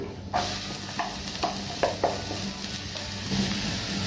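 Chopped onion sautéing in hot oil for chicken 65, a steady sizzle broken by several stirring scrapes of a utensil in the pan.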